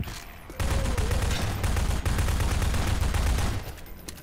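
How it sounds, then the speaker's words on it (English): Rapid gunfire in the Garry's Mod video game, a sustained loud burst of shots running for about three seconds amid echoing in-game noise. "I'm shooting you, sorry."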